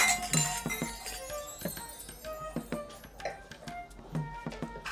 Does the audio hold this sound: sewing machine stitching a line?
no